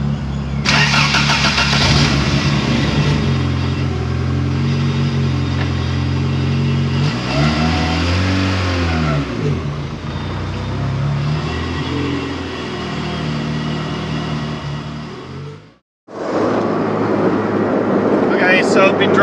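A Toyota Starlet KP61 fitted with a twin plate clutch starts and drives, its engine loud and close as it revs, rises and falls through gears, then cuts out briefly before resuming, with a voice talking over it.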